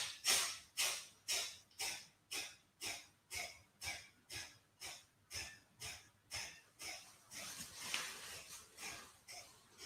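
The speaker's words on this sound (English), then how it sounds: "breathing in." Rhythmic forceful breaths of Kapalbhati pranayama yoga practice, about twenty sharp bursts at a steady fast pace, close and clear with no talking.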